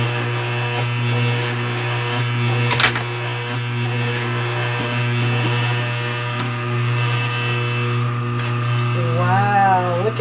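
A juicer's sorbet attachment grinds frozen bananas and greens with a steady, loud motor whine and buzzing hum throughout, a sharp clunk early on and light rattling near the end.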